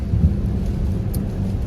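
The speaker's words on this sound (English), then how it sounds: "It's raining. It's kind of cold." Rain falls steadily outdoors in Chicago on a cold, grey day, a dense, constant wash with low rumbling underneath and no voices.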